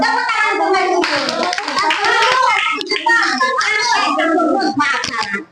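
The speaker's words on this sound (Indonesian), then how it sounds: "Tepuk tangan untuk Merkurius" Classroom of children clapping for a student group, a dense burst of applause mixed with kids' voices and chatter throughout, loud and close.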